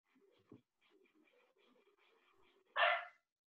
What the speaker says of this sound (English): with the only comment being a cute bark.